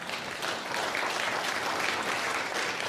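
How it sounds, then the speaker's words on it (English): Audience applause at a CXO Tech Forum business event, honoring the morning's sponsors: a dense, steady wash of many hands clapping together, loud and sustained for the full three seconds with no talk over it. "So if we could have a round of applause for all three."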